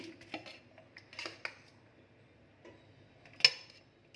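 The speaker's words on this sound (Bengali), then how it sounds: "এই যে ভাত নিচ্ছি আমি, অল্প ভাত নিই।" Rice is served onto a plate with a spoon, producing quiet scattered clinks and scrapes of metal on dishware with one brighter clang near the end, in a calm room.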